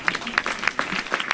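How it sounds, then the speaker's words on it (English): An audience at a New York City mental health policy announcement gives a brief, light round of scattered clapping. "we should probably like just sort of applaud through"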